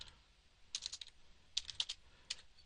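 Someone types into an Excel spreadsheet on a computer keyboard, producing a few short clusters of crisp keystrokes with pauses between them, quiet and close, with no voices.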